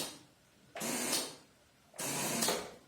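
A faulty starter motor on a Honda Supra Fit motorcycle gives two separate whirring, grinding bursts of about a second each, with quiet pauses between, recorded close up.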